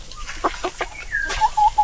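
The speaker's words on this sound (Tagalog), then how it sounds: "Ayan, nangingitlog yung isa nasa taas." A hen cackles while laying an egg on a farm, a close series of clucks followed by drawn-out higher calls, alone without talk.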